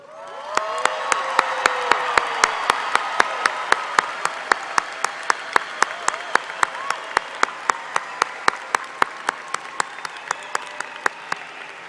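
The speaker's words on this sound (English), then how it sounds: "Please join me in a round of applause for our students." Graduates at the Palo Alto College 2023 graduation ceremony receive sustained audience applause with sharp individual claps and some cheering, building over the first seconds and then holding steady and loud throughout, with no speech.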